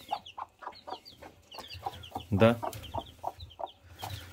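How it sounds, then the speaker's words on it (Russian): Young growing chicks cheep and peep in a rapid series of short calls, with clucking fowl nearby and a brief voice in the background. "Цыплятки растут."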